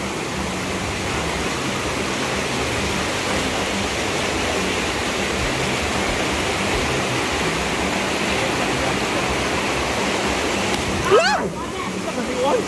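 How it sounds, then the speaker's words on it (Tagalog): A flooded river rushes in a loud, continuous broadband roar that stays steady throughout, with a brief sharper sound near the end. "baha na"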